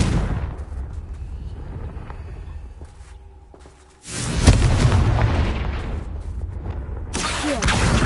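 The Confringo spell explodes in the video game Hogwarts Legacy as a sudden heavy boom midway, followed by a sustained roaring rumble with crackling debris and another impact near the end.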